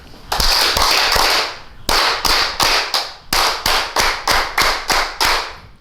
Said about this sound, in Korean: 지금 우리 한번 세게 박수를 337 박수 한번 쳐봅시다.